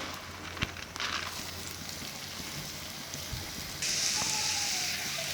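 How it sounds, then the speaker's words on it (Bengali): Lentils (dal) tipped into hot spiced oil for homemade dalle vaji, giving a steady close crackling sizzle that brightens and intensifies partway through, with no talking. "যে ডালটা আছে, ডালটা আমি ঢেলে দিচ্ছি।"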